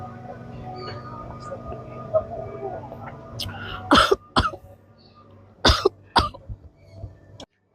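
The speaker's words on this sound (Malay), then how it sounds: "Teruknya kau batuk." A person coughs a handful of times in sharp, harsh bursts, some in quick pairs, close and loud after a stretch of quieter background sound, in a short clinic skit about fever, cough and colds.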